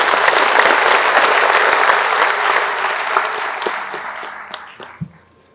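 An audience in Pune applauds after a sudden cardiac arrest demonstration. Loud, dense clapping from a full room holds steady, then thins out and fades to a few scattered claps at the end.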